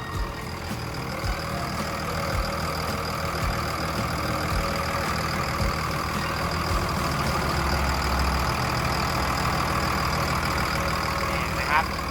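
A Caterpillar D6M bulldozer's heavy diesel engine idles close by with a steady, unbroken rumble and a constant mechanical drone.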